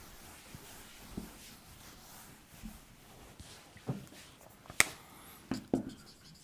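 Pen writing out a detailed trigonometry solution on paper, faint scratching strokes punctuated by a few sharper taps and clicks, quiet and close with no speech.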